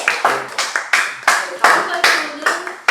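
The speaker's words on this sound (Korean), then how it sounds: "네, 박수 한번." A small audience at a student internship presentation gives a short burst of clapping, close and loud, in rhythmic surges that swell and fade for a few seconds.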